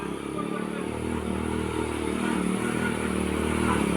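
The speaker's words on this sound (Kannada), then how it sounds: "ಬೈಕ್ ಹೊಡಿತಿದ್ದಾನೆ" Motorcycle ridden by a high school boy, a steady mid-pitched engine drone close by that swells slightly toward the end, with faint voices in the background.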